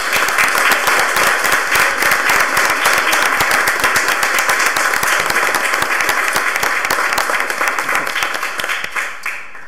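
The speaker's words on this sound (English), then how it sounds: "Let's give him a round of applause." Loud, dense applause from a crowd at a city council meeting, sustained for several seconds and thinning slightly toward the end.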